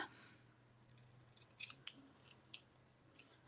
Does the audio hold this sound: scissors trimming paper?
yes